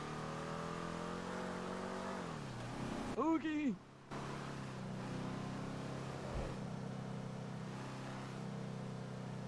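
A car engine hums steadily from inside the cabin, with a brief higher whine and a short quiet gap midway, and people talk over it.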